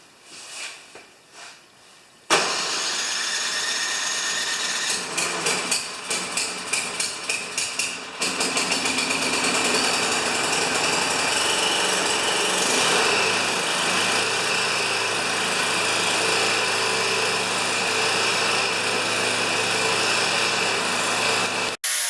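A carbureted engine being started: a few faint knocks, then the starter cranks with rapid rhythmic chugging before the engine catches and settles into a loud, steady high-pitched running roar.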